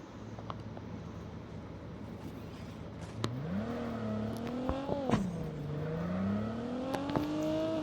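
Vehicle engine in Call of Duty Mobile revving and whirring as it drives, pitch rising and falling through gear changes, faint and steady with a few small clicks, no voices.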